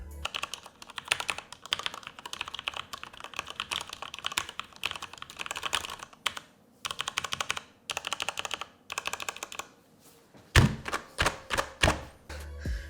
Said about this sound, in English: So hopefully you know how these MX speed switches sound